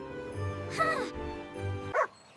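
A voice imitates a dog barking, two short woof sounds spaced apart, close and clear over low background tones.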